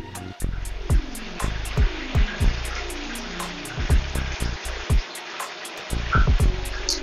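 Hot garlic lemon pepper sauce is poured over traditional BBQ wings, a close glugging pour with uneven splashes and gurgles that come in short bursts, with no talking.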